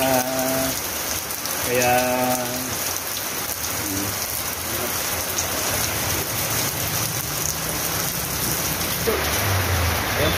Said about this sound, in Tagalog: Ayan po, medyo po maulan.